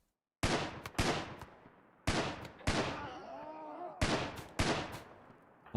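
Gunfire from a kid character in a video game played with the Vanilla Expanded mod: six sharp, loud shots in pairs, each with a short decaying tail, and a faint whistling tone in the middle.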